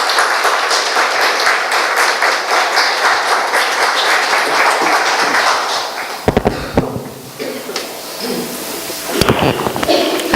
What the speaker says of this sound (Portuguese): Eu queria pedir uma salva de palmas, nós mulheres, para estes homens que assim merecem.